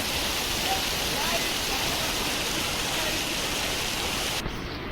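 A river rushes and flows in a steady, loud, broadband wash that lasts almost the whole time, then cuts off abruptly just before the end.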